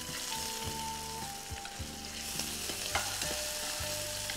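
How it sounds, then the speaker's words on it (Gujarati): Carom seeds and bay leaves sizzle steadily in hot oil for a Gujarati dish, a dense continuous crackle with faint spoon stirring and scraping throughout, close and fairly loud with no talking. "તેલ ગરમ થાય એટલે એમાં અજમો અને તજપત્તા"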